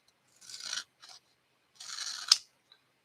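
Scissors trim the excess edges off a stamped paper piece at a coloring craft table. Two short bursts of close, crisp snipping and rasping come with brief pauses between them, ending in a sharp click, with no talking.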